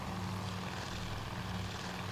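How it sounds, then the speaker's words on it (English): A damaged propeller aircraft engine drones steadily in Task Force Admiral, a dense continuous roar with buzzing low harmonics and no clear break. "There's just a noticeable change in the pitch of his engine."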